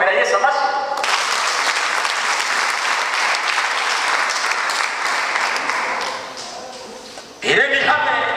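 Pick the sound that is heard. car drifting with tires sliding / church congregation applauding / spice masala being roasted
church congregation applauding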